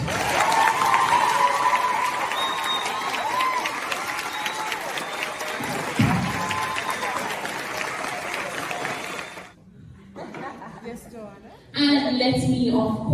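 A crowd gives a standing round of applause for a guest speaker at a talk, with loud sustained clapping filling most of the span before breaking off and then surging back near the end.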